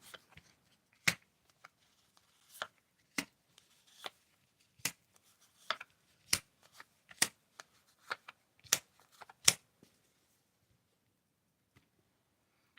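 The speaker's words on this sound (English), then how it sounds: "Draw a card. Shuffle, shuffle, shuffle." A deck of playing cards is handled in a quiet room: a dozen sharp, crisp snaps and riffles spaced about a second apart, close up, then fading to silence near the end.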